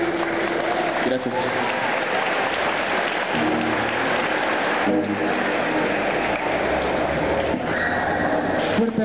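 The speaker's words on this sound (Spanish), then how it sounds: "Fuerte el aplauso para los compañeros que nos deleitan con ese mensaje musical." An audience in a gymnasium at an FMLN celebration claps loudly for a musical trio; the dense applause carries throughout, with scattered shouts and whistles rising above it.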